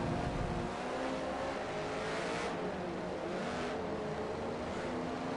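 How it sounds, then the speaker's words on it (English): Race cars in the Forza racing game drone past with engines at high revs, a dense continuous motor roar with a shifting pitch and no voices. "Cars constantly all over the place, and Alex there again, back in front of us."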